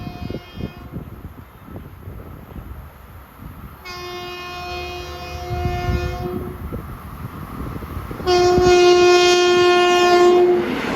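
A Long Island Rail Road M7 electric commuter train runs westbound from Ronkonkoma toward New York at an 80 mph track speed, sounding two long horn blasts that grow louder over a rising rumble of wheels on rail.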